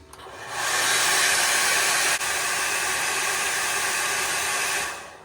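A heat gun or hair-dryer-style blower runs steadily as it blows hot air onto the temperature sensors of a 12.8 V 320 Ah LiFePO4 lithium battery during teardown testing, a loud continuous whoosh that starts up, holds and dies away, with no talk.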